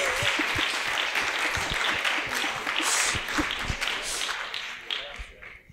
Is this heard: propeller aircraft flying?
no